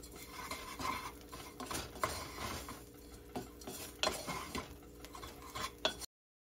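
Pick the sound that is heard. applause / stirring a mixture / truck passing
stirring a mixture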